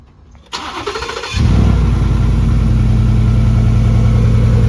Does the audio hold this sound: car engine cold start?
yes